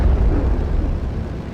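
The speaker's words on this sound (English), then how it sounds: "But yeah, devastating explosions." A deep, booming explosion from the World War II strategy game Steel Division Normandy 44. It is a single loud, low rumbling blast that holds its weight for about a second and a half before easing off slightly.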